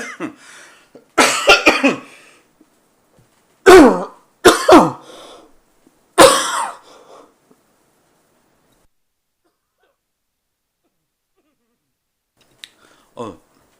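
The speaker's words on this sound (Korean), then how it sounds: "기침이 잠깐 나가지고" Several sharp coughs and throat clearings come in short bursts from a nearby speaker in a quiet indoor room, followed by long silence and one faint final cough.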